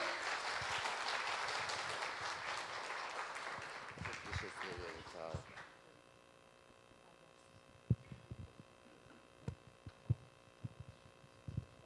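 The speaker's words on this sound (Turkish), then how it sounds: "alkışlarınızla büyük usta, gönül emekçisi Sayın Selim İleri." An audience at an Istanbul talk event claps loudly to welcome a speaker, a dense burst of applause that fades after a few seconds into quiet talking with scattered knocks.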